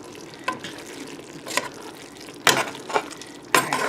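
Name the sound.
stirring noodles in a pot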